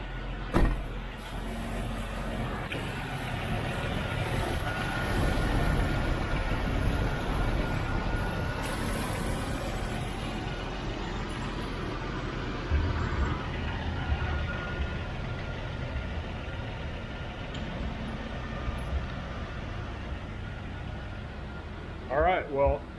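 A Jeep TJ engine idles after an exhaust manifold replacement, giving a steady, low, even rumble close by with no clatter, running unbroken under faint background noise.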